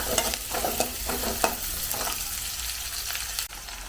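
Onions fry on a medium flame with an even, close sizzle. Repeated spatula stirs scrape the pan in the first half, then the sizzle continues alone. No voices.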